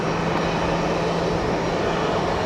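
Jet airliner taking off from runway 01 left at Brisbane Airport, a steady broadband engine roar heard from a distance with a faint low drone, no voices.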